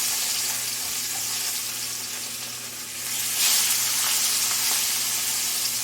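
Fish pieces for a Bengali potato fish curry (aloo diye macher jhol) sizzle steadily in hot oil in a pan, a continuous bright crackle that swells slightly midway, with no talking.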